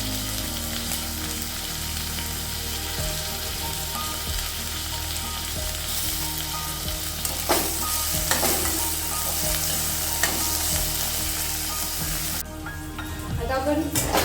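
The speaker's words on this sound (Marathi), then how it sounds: "आता आपण कांदा आणि टोमॅटो परतलेला आहे तेलात." Chopped onion and tomato sauté in hot oil for an Indian-style egg bhurji, giving a loud, continuous sizzle with occasional stirring scrapes and a voice talking over it.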